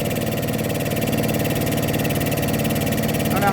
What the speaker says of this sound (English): we hooked it up to the air compressor